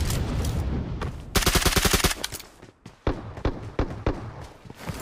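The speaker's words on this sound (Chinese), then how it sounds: "265方向怎么又有枪声？" Video game gunfire in a battle royale match, rapid automatic bursts of sharp close shots in quick strings, then scattered single and short volleys separated by brief gaps.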